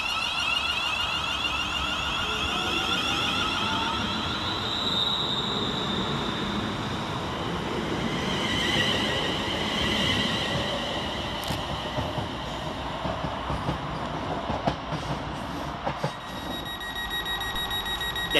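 A West Midlands Railway train, unit 35405, pulls away from Aston station, a steady broad rumble of wheels and traction with brief high squeals and clanks, continuous and fairly close throughout.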